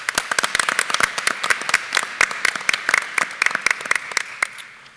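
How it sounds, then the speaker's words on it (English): Applause breaks out from the audience at a board of education meeting, a burst of many hands clapping close and lively, then thinning out toward the end. "Can we give them a round of applause, please?"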